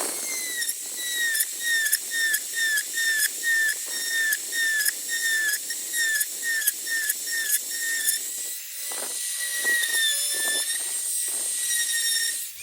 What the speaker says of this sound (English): I've got a little Dremel here, so I'm just going to do this for speed and ease.